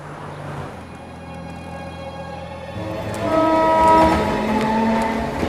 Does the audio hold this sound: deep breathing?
no